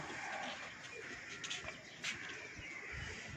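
Pigeons at a rooftop pigeon-flying gathering in Mirpur, heard as soft cooing and rustling under a steady outdoor hiss, with a few brief flutters or knocks scattered across the few seconds.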